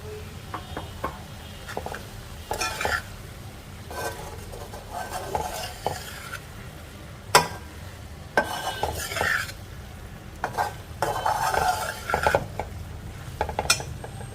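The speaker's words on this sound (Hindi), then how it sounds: "अब हम इसमें फ्राई की हुई भिंडी डाल देंगे।" Fried okra tipped into a pan of softened masala and stirred, a spoon scraping and clattering against the metal pan in irregular bursts over a low, steady sizzle, fairly close.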